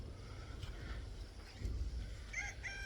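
Chickens on a small poultry farm give faint clucks and calls over a low, constant background rumble, with a slightly louder burst of fowl sounds near the end.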